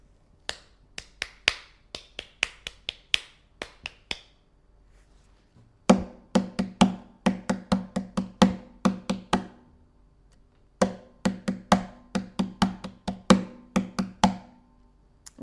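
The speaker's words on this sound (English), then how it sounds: "So if we clap the rhythm, it's going to sound like this" Hands clapping out a guitar strumming rhythm, crisp close claps in repeating bursts of quick down-up patterns with short pauses between phrases.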